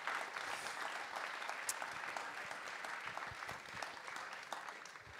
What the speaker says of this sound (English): Please give an applause to Mr. Erguner and to Lucky Fonz III